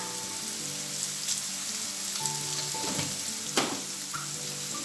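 Garlic sautés in a hot pan for an evening bread snack, giving a continuous bright crackling sizzle with occasional pops and stirring scrapes, close and steady throughout.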